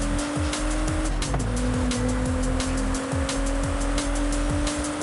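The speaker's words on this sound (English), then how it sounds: "let's send it off in the Toyota Supra." A Toyota Supra races in Forza Horizon 5, its engine holding a loud steady high-revving tone with a brief pitch dip as it shifts, over constant road and tire roar and no voices.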